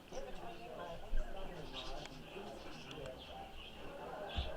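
Birds calling and cooing in a noisy chorus, with soft bursts and chirps scattered across the clip under a low background hum and indistinct voices.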